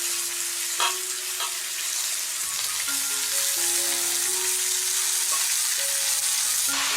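Chicken pieces sizzle steadily in hot oil in a kadai for a chui jhal chicken recipe, a loud continuous hiss and crackle with a few brief clinks and tonal squeaks from the pan, no talking.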